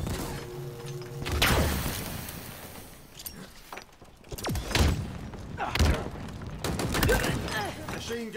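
Gunfire and impacts in Halo Infinite, heard as scattered loud bursts and thuds mixed with explosions and clatter instead of a steady stream, with voices talking in between.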